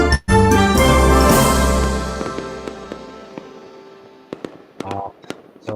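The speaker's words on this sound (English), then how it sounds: "Get those magical fireworks pumping." Fireworks in a channel intro: a loud opening burst followed by a long fading crackle and sizzle, then a few scattered sharp pops near the end.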